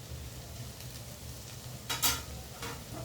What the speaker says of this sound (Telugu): ఒకసారి అంతా కలుపుకుందాం.